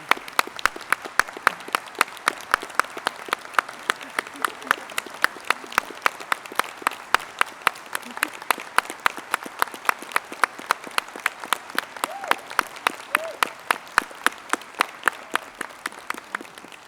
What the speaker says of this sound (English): I'm going to invite our backstage team onto the podium to just celebrate John with an applause.